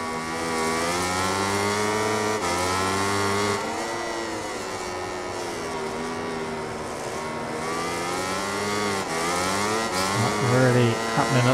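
A MotoGP 20 racing game motorcycle engine screams at high revs, its pitch climbing under acceleration and dropping at gear changes, loud and continuous.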